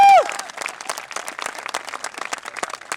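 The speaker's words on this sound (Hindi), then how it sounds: "एक बार जोरदार तालियां बजाइए" Audience at a Hindi poetry recital claps enthusiastically after a short tone, producing a steady, moderately loud patter of many hands that continues without a pause.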